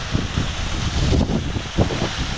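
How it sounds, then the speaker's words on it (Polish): A waterfall in the Pamir mountains roars as a constant broadband rush of water, close and fairly loud, with gusty fluctuations and no voices. "Wodospad"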